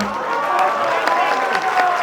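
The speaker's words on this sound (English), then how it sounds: "Can we have round of applause for this beautiful girls dance?" A crowd applauds and cheers a girls' dance performance, a short burst of mixed clapping and voices at moderate loudness with a brief tonal note at the start.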